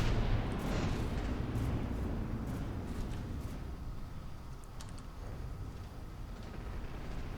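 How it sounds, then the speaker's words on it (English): Distant battleship turret guns in a naval battle video game fire in scattered booming volleys over a dense rumbling background, the reports irregular and muffled, with no clear talking. "now it's firing into the back of your front-facing turret"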